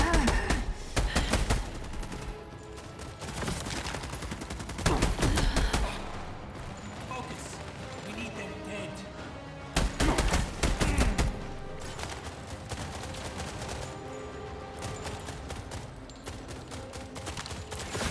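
Bursts of automatic gunfire in The Expanse: Osiris Reborn, several loud volleys of rapid shots separated by stretches of quieter combat ambience and game music.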